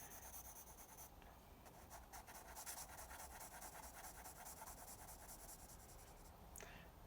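Soft, steady scratchy strokes of a 6B pencil on paper, continuous and close, with a faint rasping texture and no voices.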